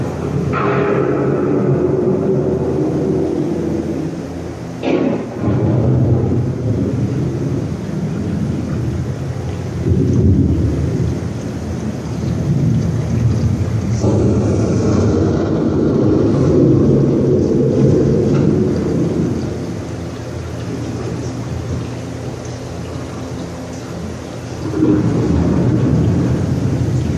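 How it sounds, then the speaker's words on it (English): A thunderstorm rolls through with heavy, continuous rain and deep rumbling thunder, several louder cracks and swells rising over the steady downpour throughout, no voices. "The approaching storm may seem violent and destructive to us"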